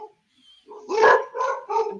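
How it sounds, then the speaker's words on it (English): Several dogs bark in quick succession at close range, loud sharp barks in three bursts following a brief faint yip, with no talk over them. "We would not have a live cast without my dogs barking"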